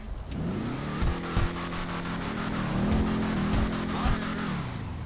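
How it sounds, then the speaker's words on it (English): A modded car engine in GTA 5 Online revving repeatedly, rising and falling pitch sweeps punctuated by several sharp popping backfires, close and loud with no talk. "The backfires sound amazing and look amazing."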